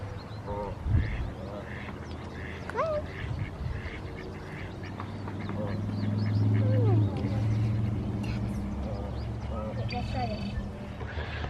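Ducks quack and a goose calls at a duck pond, with scattered calls near and far and a broader murmur of activity in the middle, while people talk in the background.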